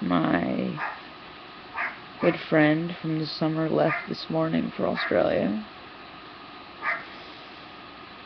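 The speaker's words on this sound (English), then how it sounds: "Sorry about the dogs." Dogs bark and whimper in short yelping bursts near the microphone, clustered in the middle and mixed with someone speaking over them.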